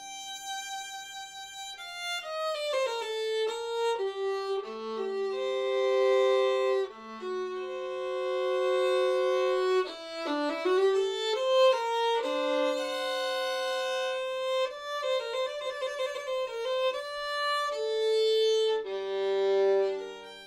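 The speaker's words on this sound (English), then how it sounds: "when I pull the bow across the strings of the violin, it makes a really beautiful, long, flowing sounds like this" A violin bowed across its strings plays long, flowing sustained notes that glide between pitches in a continuous melody, clear and solo with no talking.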